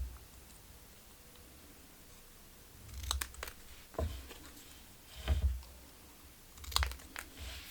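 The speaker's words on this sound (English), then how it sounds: "I'm going to cut it in pieces" Scissors cutting a printed paper quote into pieces, a few separate snips and crisp paper crunches close up, with quiet pauses between them.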